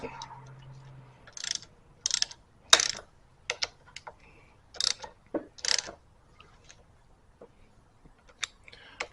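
Hand tools tightening clutch cover bolts on a Suzuki motorcycle during a clutch repair, heard as scattered close ratcheting clicks and metallic taps in short bursts separated by quiet gaps.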